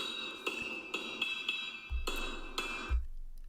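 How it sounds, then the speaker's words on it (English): A hammer strikes in regular, sharp blows, about one every half second, each with a short metallic ring, with two heavier thuds near the end before it stops. "just before the hammer strikes in this video"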